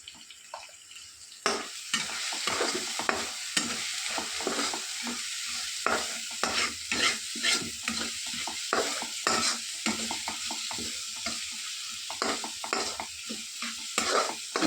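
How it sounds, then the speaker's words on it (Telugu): Rice frying in oil in a pan is stirred with quick, repeated scraping strokes over a soft continuous sizzle, close and fairly loud, with no talking. "ఇట్లా కొంచెం కలదుకుంటే కొంచెం ఆయిల్ అంతా పైకి వస్తుంది"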